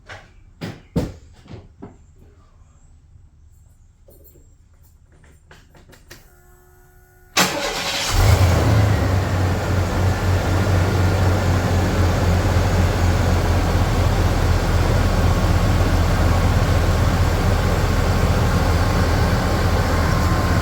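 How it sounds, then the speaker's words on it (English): A 1993 Chevy Blazer's freshly installed engine starts after some quiet clanks and handling, then settles into a steady, loud idle heard from close by outside the truck for the rest of the time. "It just sounds like the engine's way happier"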